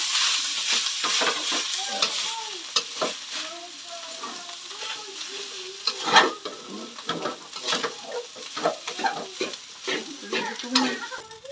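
Rice stir-frying in canola oil for pork tapa egg fried rice, a continuous loud sizzle with repeated scraping stirs of a utensil against the pan, faint voice at times.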